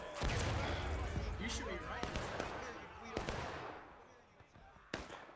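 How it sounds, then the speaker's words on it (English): Confederate artillery in a Civil War video game thuds out in several sharp, spaced blasts over a busy battle backdrop, with a voice talking over it. "Yay, Confederate artillery!"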